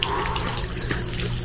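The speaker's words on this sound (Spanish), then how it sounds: "¡Hay agua!" Water runs steadily from a tap, a constant close splashing rush that fills the whole moment without pause.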